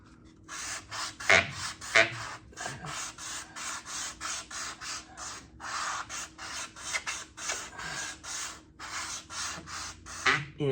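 Wet sanding of freshly resprayed car paint on a Corvair makes repeated rhythmic rasping back-and-forth strokes, close and moderately loud, with no talk.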